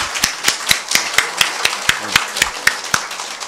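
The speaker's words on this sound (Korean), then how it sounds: "이럴 때 여러분 박수 한번 치는 겁니다" Isolated handclaps ring out in a steady rhythm, roughly three or four per second, at a debate about flying the Taegukgi flag at Gwanghwamun Square, sounding like a small audience clapping along rather than full applause.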